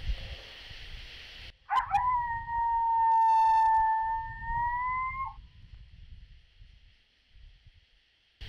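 A handheld predator call imitating a female coyote howl gives one long, wavering wail that slides upward and then holds, following a brief burst of higher noise, with faint background rustling.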